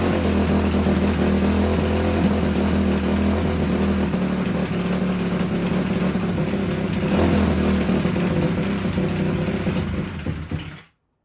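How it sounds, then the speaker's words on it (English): A dirt bike engine runs loudly and steadily at close range, gears grinding in the bottom end, its rough mechanical drone persisting before cutting off abruptly. "You can hear those gears unhappy in that bottom end"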